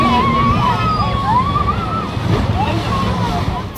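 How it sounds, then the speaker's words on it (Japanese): A speedboat accelerating hard on a fast, rough river toward a waterfall, with loud rushing water and wind roar, an engine whine beneath, and voices calling out over the noise. "スピードがかなり速くて船が反り返るぐらい加速する"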